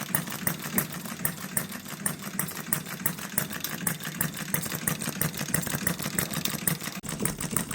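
A model hit-and-miss engine, built from an HM-01 Retrol kit, runs steadily with a fast, even ticking beat and a mechanical rattle, close by and continuous throughout.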